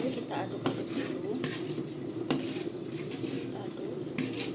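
A utensil stirs soy sauce, fish sauce and water for chicken noodles in a bowl, making repeated clinks and scrapes against the dish in an uneven rhythm, close by, with faint background noise.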